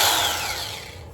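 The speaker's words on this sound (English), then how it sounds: "Just have to plug this in, and then I've got to find the appropriate drill bit" An electric drill spins at full speed for about a second, then winds down with a falling whine as the trigger is released, close by with no talk.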